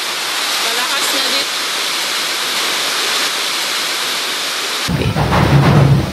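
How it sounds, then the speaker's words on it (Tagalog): Strong typhoon wind in Camarines Norte, Philippines, roars in a constant hissing rush, then gusts buffet the microphone with low rumbling thumps toward the end. "sobrang lakas ng hangin"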